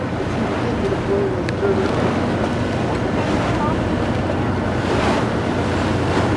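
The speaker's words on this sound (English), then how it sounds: "Riding a ferry to Alcatraz." Strong wind buffets the microphone aboard a ferry bound for Alcatraz, with the steady rush of waves and water beneath the boat filling the background continuously and loudly.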